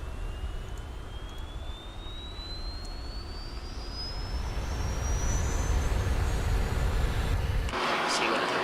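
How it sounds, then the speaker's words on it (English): Harrier jet engine in Arma 3 spooling up, a steady roaring whine with a slowly rising pitch that grows louder, then shifts to a harsher rush near the end. "I can put my engine on"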